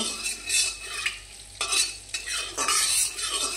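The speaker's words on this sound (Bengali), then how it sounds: "কড়াই বসে দিয়েছি, এখন অল্প সাদা তেল দিয়ে দিয়েছি" Oil heating in a wok for fried eggplant, a scraping, sizzling kitchen sound with several bursts of stirring over a steady hiss, close and fairly quiet.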